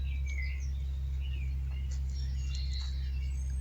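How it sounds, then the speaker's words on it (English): A blackbird singing far off in a quiet, mixed deciduous woodland of birch: faint, scattered warbling phrases drift over a steady low hum, with no one talking. "And I can hear a blackbird off somewhere."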